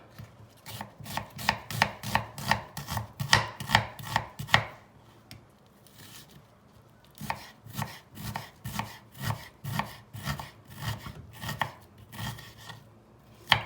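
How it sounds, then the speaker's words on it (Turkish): Rapid, steady knife chops on a cutting board, vegetables being cut in two bursts separated by a short pause, close and crisp with no talking. "Sevgili takipçilerim, sebzelerimi doğramaya başlıyorum."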